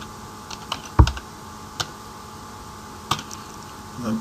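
Sparse clicks and taps from a computer keyboard while writing Python code, one sharp thump followed by a few scattered keystrokes at an irregular pace, close up.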